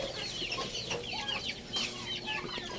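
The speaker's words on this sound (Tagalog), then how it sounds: "Doon mayroong manok." Chickens on a farm cluck and chatter steadily at moderate distance, several birds overlapping in short rising calls with no speech.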